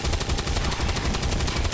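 Automatic gunfire from a soldier's weapon in the turn-based strategy game XCOM 2, a loud, rapid burst of evenly spaced shots filling the whole moment, close and dense.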